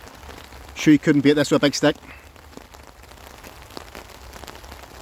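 Heavy rain falls steadily on a tarp at a roadside stealth campsite, a constant close patter throughout, with someone talking briefly over it near the start.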